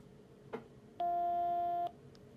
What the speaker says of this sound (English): Here's what you're going to hear when you try to transmit and your repeater is not functional, or is not, it's functional, but it's not synchronizing.